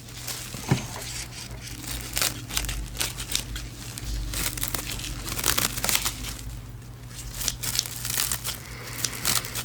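Close crinkling and crunching of a paper sheet being cut with kids' scissors, with irregular snips and rustles throughout as it is handled.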